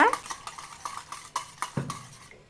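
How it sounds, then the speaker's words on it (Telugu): A whisk beats milk with jaggery in a bowl, giving quick, irregular clinking and tapping strokes against the bowl close by for a couple of seconds, with no talk. "ఇప్పుడు ఈ పాలని విస్కర్ తోట అయితే బాగా మిక్స్ చేసేద్దాం పాలల్లో బెల్లం మొత్తం కరిగిపోయి బాగా మిక్స్ అయ్యేంత వరకు అయితే కలిపేసుకుంటే సరిపోతుంది"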